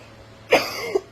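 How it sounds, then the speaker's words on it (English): A single close, loud cough bursts out, followed by a smaller throaty catch in an otherwise quiet indoor room. "Sorry about the coughing, y'all."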